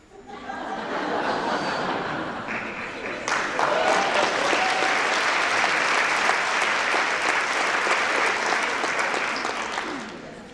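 A conference audience at a tourism event in Georgia breaks into sustained applause mixed with scattered laughter, a dense, loud wash of clapping that builds quickly and holds steady for about ten seconds before tapering off.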